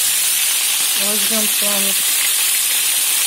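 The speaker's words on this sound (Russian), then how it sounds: "Они быстро пожарятся." Meat cutlets frying in a pan give a steady, loud sizzle that runs through the whole stretch, with a brief bit of talk partway through.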